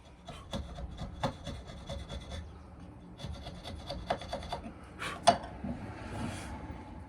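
A micro file working burr marks off a wooden piece held in a vise, quiet rhythmic short rasping strokes in close bursts with a brief pause midway.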